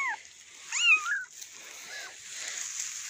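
Several cats meowing in a shed, thin rising and falling cries coming in a few short bursts, the loudest in the middle, over a faint steady background hiss.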